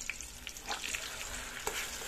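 Onion and garlic paste being stirred into hot frying oil, with a steady sizzle and soft scraping strokes of the spoon through the mixture, close and continuous.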